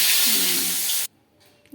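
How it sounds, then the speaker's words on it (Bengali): Bay leaves and dried red chillies hit hot oil for tempering, giving a loud, steady broadband sizzle that lasts about a second and then cuts off abruptly, leaving near silence. "লঙ্কা ফোড়ন দেবো।"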